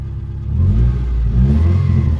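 A 2003 Subaru Legacy with a loud exhaust revs up, its deep low rumble swelling and holding strong, close and alone.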